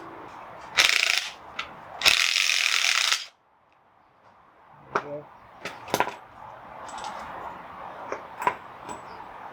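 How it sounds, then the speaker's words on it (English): Ratchet clicking while a 32mm bolt is removed from the input shaft of a BMW E46 M3 differential, two loud bursts of rapid ratcheting early, then scattered tool clinks and taps nearby. "You're gonna use a 32mm and take this bolt off."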